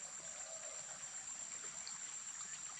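Rain-swollen stream running high against the underside of an ATV bridge after several days of rain, a steady, even broadband rush of flowing water with no breaks, moderately close, under a constant high insect-like whine.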